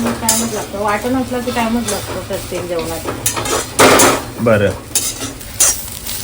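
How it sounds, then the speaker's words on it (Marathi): Dry coconut and onion roasting in a pan, with scraping stirs and metallic clinks of a utensil against the pan over a low sizzle, a few sharper knocks toward the end, and a voice talking intermittently. "आता आपण सुख खोबरं भाजून घेऊया"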